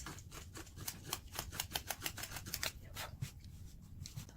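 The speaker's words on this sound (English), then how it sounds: "grab your X-Acto knife and very carefully cut through" An X-Acto knife slices through layers of denim in a quick series of crisp, rhythmic scraping cuts, close and fairly quiet, with no talk.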